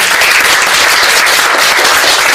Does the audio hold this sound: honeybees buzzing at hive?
no